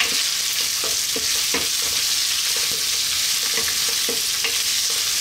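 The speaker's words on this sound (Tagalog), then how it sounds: "Again, haluin lang natin sandali." Onions sautéing in a pan for a Filipino creamy clams dish, a constant loud sizzle with repeated scraping strokes of stirring.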